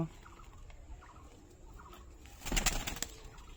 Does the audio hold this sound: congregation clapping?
no